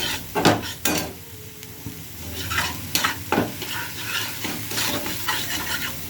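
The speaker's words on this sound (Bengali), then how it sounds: "টমেটোটার মধ্যে অল্প নুন দেব একটু অল্প একটু হলুদ দেব দিয়ে নেড়ে নেবো" Tomato with salt and turmeric sizzles in a hot pan as it is stirred, with repeated scraping utensil strokes and occasional clinks against the metal over a continuous frying hiss, close and fairly quiet.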